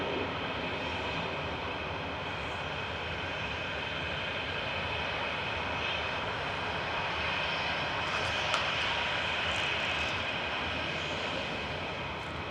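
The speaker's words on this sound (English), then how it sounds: "Lining up, ready to go next is TUI heading over to Salzburg with a 737-800" A TUI Boeing 737-800 bound for Salzburg takes off from Manchester Airport, a steady, loud jet engine roar with broad rushing noise holding constant throughout, heard from a distance.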